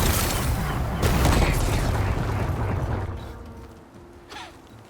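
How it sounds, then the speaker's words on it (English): Rocks blasted apart in the video game Horizon Forbidden West give a loud, booming explosion rumble that holds for about three seconds, then fades to a quieter tail with a small late thud. "Gotta blast away some rocks, so I can expose the power cell."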